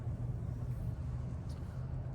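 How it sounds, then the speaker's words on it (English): A steady low engine rumble from a car on the road, continuous and fairly close, with no clear pass-by swell. "I do hear some loud fossil fuel cars."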